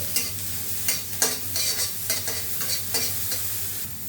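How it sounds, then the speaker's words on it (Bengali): A steady sizzle from diced eggplant frying lightly in a pan, with quick spatula scrapes and taps every half second or so, close-up and without talk. "বেগুনগুলোকে আমি হালকা ভেজে নেবো"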